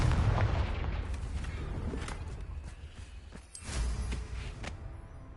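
Confringo blasting spell explosions in Hogwarts Legacy, a series of heavy booms and blasts, loudest at the start, with a second deep burst later and rumbling debris in between, no talk.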